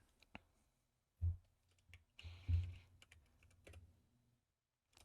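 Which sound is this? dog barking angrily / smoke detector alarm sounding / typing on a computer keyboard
typing on a computer keyboard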